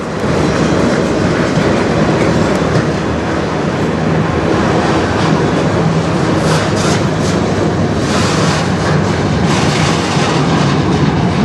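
Freight train cars of CN M384 roll steadily past inside a tunnel, a loud continuous rumble with clickety-clack wheel beats and occasional metallic squeal, filling the whole stretch without any talk.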